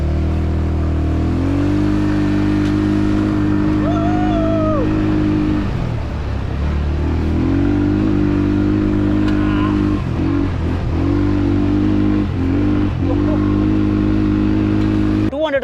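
An off-road bike at a budget resort near Bangalore runs with a loud, close engine drone. It rises into revs and dips and surges several times, with faint voices underneath.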